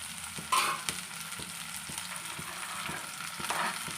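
Okra with onion frying in a pan, a steady crackling sizzle with soft scraping stirs at regular intervals, close up, with no talk.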